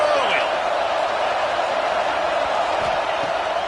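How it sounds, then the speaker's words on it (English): Dense roar of a stadium crowd at a football game, with broadband noise held steady and loud throughout. No distinct cheers or chants stand out above it. "This crowd bringing the energy and noise early"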